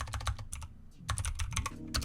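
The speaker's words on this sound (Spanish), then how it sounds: "mi teclado está en inglés y no contiene los acentos, así que voy a darle un par de enter" Typing on a computer keyboard with an English layout: close, crisp key clicks in quick bursts, a short pause, then another run of rapid keystrokes.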